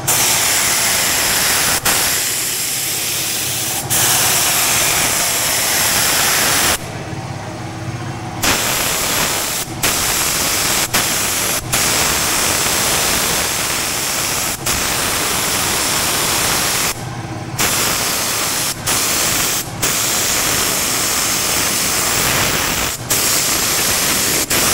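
A compressed-air paint sprayer hisses steadily while coating a Ford F450 7.3 tool truck, loud and close, with a few brief pauses between long bursts of spray.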